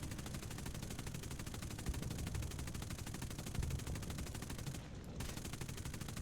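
Rapid machine-gun fire in War Thunder rattles on without a break, a dense stream of shots under a low rumble, steady and moderately loud throughout.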